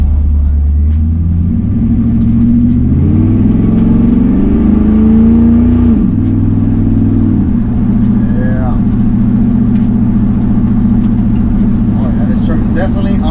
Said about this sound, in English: right now we're gonna be heading out to Lalo's to drop off La Peewee truck